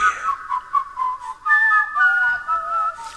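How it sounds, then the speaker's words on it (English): Whistled melody in a cooking-show setting, a wavering high tune with short phrases that slide and sustain, fairly close and alone without talk. "will you stop that whistling? It's driving me nuts."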